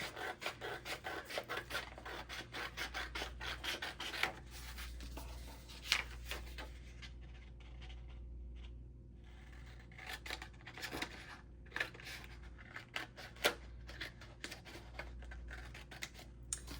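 Repeated crisp snips and rasping cuts of scissors through paper, steady and close, with brief pauses between strokes over a low background hum.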